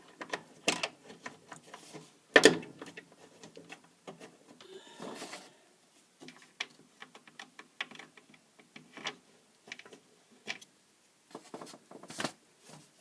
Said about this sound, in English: We just need to put our screws back in.